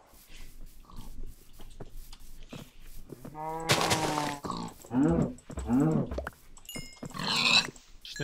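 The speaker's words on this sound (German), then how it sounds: "Da, Schwein und Kuh." Minecraft pigs and cows make game animal noises: a string of grunting oinks and drawn-out moos close up, each call separate, with quiet gaps between them and no talking over them.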